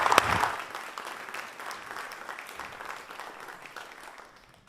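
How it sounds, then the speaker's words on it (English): An audience at a geography conference claps for a panel, loud at first and then gradually thinning and fading away over several seconds. "give another round of applause for the panelists here"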